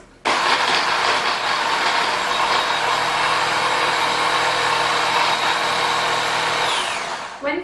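A food processor blending dressing ingredients starts abruptly and runs as a loud, steady motorized whir for about seven seconds before winding down, with no voices.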